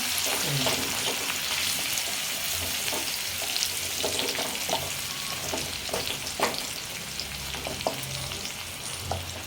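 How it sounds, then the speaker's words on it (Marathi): Crushed garlic and bay leaf fry in hot oil for a crab curry, a loud continuous sizzle broken by repeated spatula scrapes and stirring clatters. "आता ह्यात आपण हा ठेचलेला लसूण थोडासा तेजपत्ता जरा परतून घेऊया"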